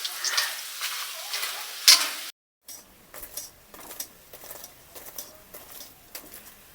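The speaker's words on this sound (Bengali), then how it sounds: "এইভাবে সব কটা পরোটা ভেজে নিচ্ছি" Parathas frying in oil in a home kitchen, turned with a spatula: a dense sizzle for about two seconds, a short break, then quieter scattered crackles and light spatula taps.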